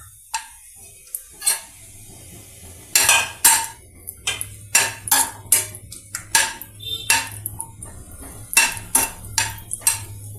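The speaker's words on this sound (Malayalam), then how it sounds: "ഇതിലോട്ട് കുറച്ച് നെയ്യ് ഒഴിച്ച് അണ്ടിപ്പരിപ്പും മുന്തിരിങ്ങയും വറുത്ത് മാറ്റാം" Metal utensil scraping and clinking against a pan while cashews and raisins fry in ghee, sharp irregular clanks and scrapes repeating close by over a low steady hum.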